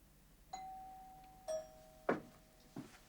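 A doorbell rings clearly several times, each sharp ding tailing into a sustained tone, a run of separate chimes over a quiet room with no talk.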